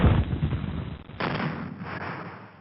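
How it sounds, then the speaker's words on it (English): Civil War battle effects for Glendale, June 1862, with heavy Union guns firing: a loud, booming burst of artillery and gunfire opens, then a second roaring volley follows after about a second and rumbles on to the end. "long Brigadier General George McCall's line, 2 heavy guns open up and fire tons of metal"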